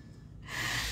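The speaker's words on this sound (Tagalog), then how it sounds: "Oh, may suminga po." A person gives a brief, forceful nose blow, a short breathy burst that rises in the second half after a quiet start.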